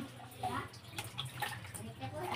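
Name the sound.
water poured over head while bathing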